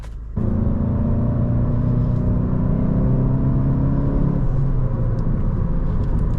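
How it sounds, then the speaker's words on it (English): A 2017 Volkswagen Golf GTI engine with performance exhaust rumbles loudly at close range with a deep, throaty exhaust note, holding a steady idle-to-rev drone before the pitch drops slightly. "this Golf GTI does come with the performance exhaust, which makes it sound a little more throaty"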